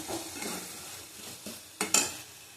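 Spice paste stir-fried in a pan for a taro dish with panch phoron, with soft scraping and light sizzle throughout and a couple of sharper clinks of spatula on metal near the end.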